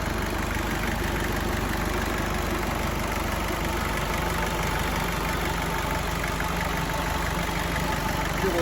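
A 1992 Isuzu Rodeo's 3.1-litre turbo diesel engine idles steadily, a constant close rumble with an even, unchanging tone and no talking.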